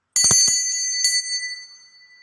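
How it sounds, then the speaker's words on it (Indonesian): A small bell rings close and bright, a quick cluster of strikes followed by one more ding, each leaving a clear, sustained ringing tone that fades out in a quiet room. "saya akan memberikan suatu tanda lonceng berbunyi untuk memulai suatu kata ramalan"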